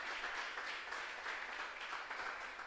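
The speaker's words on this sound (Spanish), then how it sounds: "dele un fuerte aplauso a Él" A church congregation applauds to give glory to God, a dense continuous roar of many clapping hands that holds steady and faint at a distance, with no clear speech above it.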